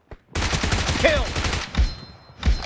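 Loud, sustained bursts of automatic gunfire from the PUBG video game in an 8 vs 8 arena match, rattling continuously then tapering into a few separate shots near the end.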